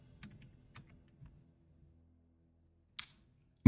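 A computer keyboard being tapped in a few sparse, faint clicks spread over several seconds of near silence, ending in a sharper, louder click.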